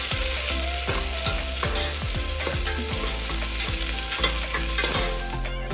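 Onions frying in a pan for mutton curry: a loud, dense, steady sizzle close up, with repeated rhythmic stirring knocks running through it and no speech.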